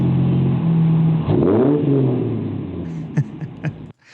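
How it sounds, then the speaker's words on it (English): A Ford Taurus V6 engine idles, then revs up sharply and winds back down, followed by a few brief clunks. "who would think you'd fire up a old Ford Taurus and it sounds like this."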